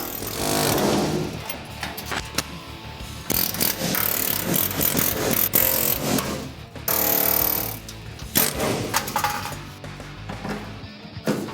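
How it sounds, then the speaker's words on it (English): Loud rapid air chisel hammering in bursts, clearing leftover spot weld remnants, metal chattering against metal with short pauses between runs, close and harsh, no speech. "the air chisel comes in to clean up the cling-ons."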